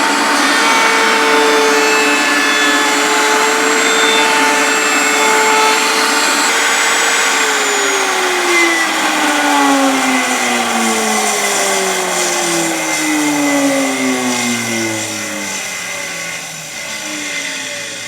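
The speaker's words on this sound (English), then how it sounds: "now I'm going to feed the material from right to left across the table router" A table router cutting wood as material is fed right to left across the table, a loud steady high whine with shifting tones throughout, its pitch sliding downward and fading slightly near the end as the bit winds down.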